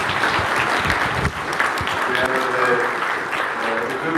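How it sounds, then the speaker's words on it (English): Audience at a debate breaks into sustained applause, dense steady clapping from a crowd that carries on for several seconds, with a voice faintly present beneath it. "Really, please give a round of applause."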